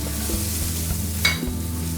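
Spices frying with garlic and onions in a wok, a loud close sizzle with stirring scrapes and a brief clink of the utensil partway through.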